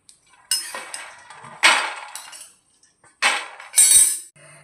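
Roasted peanuts tipped from a pan into another vessel, coming as several separate rattling, clinking pours of nuts against metal and glass with short pauses between, close and clear with no talking.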